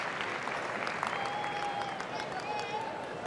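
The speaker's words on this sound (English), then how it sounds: "This sellout crowd letting it all soak in, and at times hoping their voice is heard to the one they like." A sellout crowd at the Westminster dog show applauds steadily, a dense, continuous wash of clapping filling a large arena with a few faint whistles and scattered cheers.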